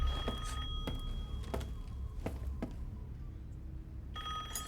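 A telephone rings in Resident Evil 8, sounding a series of rapid, bright ring bursts. After a short gap, ringing resumes near the end over a low background hum.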